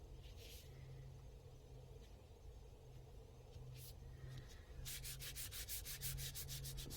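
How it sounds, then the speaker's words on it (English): Ink pad rubbed back and forth across paper for a lighter colour effect in a card-making craft, a soft, steady scraping that turns into a faster run of regular strokes toward the end. "I know I'm rubbing backwards and forwards"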